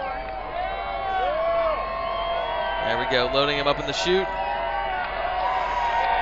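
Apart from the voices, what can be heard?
crowd cheering at a marble race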